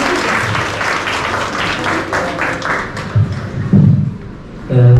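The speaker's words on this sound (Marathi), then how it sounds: "टाळ्यांचा जवाब द्यायचा." Audience applause breaks out at a school training closing ceremony, dense clapping from a crowd that thins toward the end, with a few louder thumps and handling knocks.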